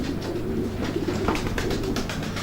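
Racing pigeon cocks cooing repeatedly in a loft, soft throaty coos recurring through a steady low hum of background noise.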